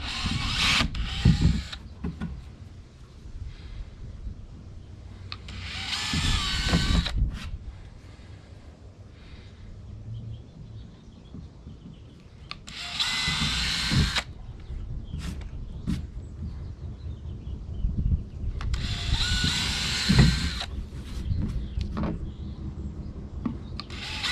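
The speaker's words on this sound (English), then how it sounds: "now I'm drilling out the pilot holes for the screws" A power drill whirs in several short bursts while drilling screw pilot holes during van plumbing work, separated by pauses with handling clatter and light knocks between them.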